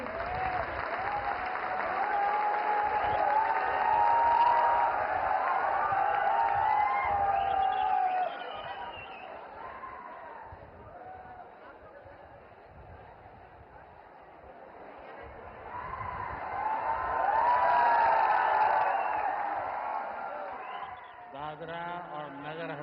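A large audience in Silvassa applauds and cheers to welcome Prime Minister Narendra Modi. Sustained clapping swells, fades, then surges again, with a voice briefly heard near the end.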